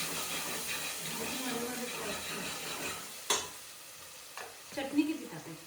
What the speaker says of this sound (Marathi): लगेच ना मटण शिजायला फोडणी घालून घेतलं